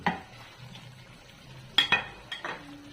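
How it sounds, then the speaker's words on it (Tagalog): Fried eggplant is tipped into a coconut chicken stew and stirred, giving a soft scrape and a couple of sharp utensil clinks against the pot at close range. "ilalagay na natin ang ating naprito na"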